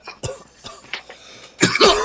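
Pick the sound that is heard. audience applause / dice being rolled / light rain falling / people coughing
people coughing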